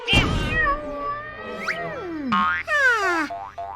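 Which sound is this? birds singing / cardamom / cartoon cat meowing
cartoon cat meowing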